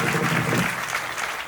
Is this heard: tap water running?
no